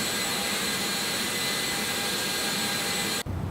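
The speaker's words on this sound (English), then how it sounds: "I'm using the Mango Pratt & Whitney mod. Now, it doesn't change the engine indications or anything, but I got the sounds" Steady roaring whine of a Pratt & Whitney jet engine on an MD-11F freighter in the X-Plane 12 flight simulator, loud and continuous, cutting off abruptly near the end.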